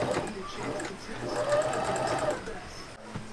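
A sewing machine runs briefly, stitching fabric for a tote bag made from old clothes, its fast mechanical whir rising in pitch and then stopping, while people talk nearby.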